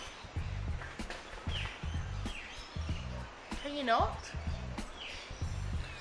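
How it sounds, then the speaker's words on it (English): Outdoor birds squawk and chirp in short bursts while someone talks over them, with the calls rising sharply around the middle. "There's birds having a massacre right now."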